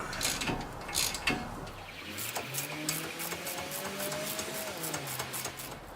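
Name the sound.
tightening bolts on Nissan Murano suspension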